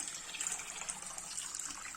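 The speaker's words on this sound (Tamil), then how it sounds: "இப்ப இதுல நம்ம தண்ணி ஊத்தி ஊற வச்சிடலாம்" Water is poured over washed ragi and fenugreek seeds to soak them for dosa batter. A close, continuous splashing gush carries on without a break and no voice is heard.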